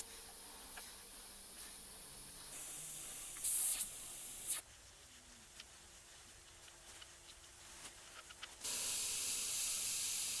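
Airbrush spraying paint onto a Grim Reaper figure: faint, steady hiss of air in several bursts of varying strength, with brief louder puffs and a stronger hiss at the end, close and alone.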